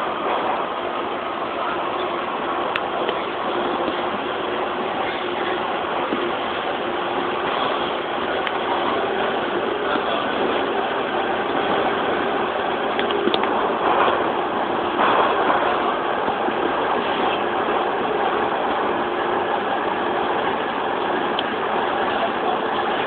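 A TTC subway train idles at Woodbine Station with a steady, droning rumble and hum of motors and ventilation throughout, a continuous even mechanical bed with faint clicks and no talk.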